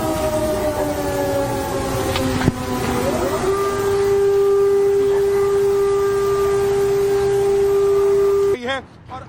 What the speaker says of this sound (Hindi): ये एयर अलर्ट सायरन की आवाज है